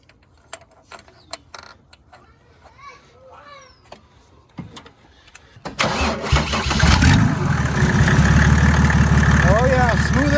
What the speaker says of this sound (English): so let's put the injector in and fire it back up.